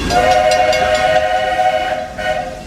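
A loud, sustained train whistle blares over rumbling rail noise from a theme park mine train ride, steady for a couple of seconds before fading slightly.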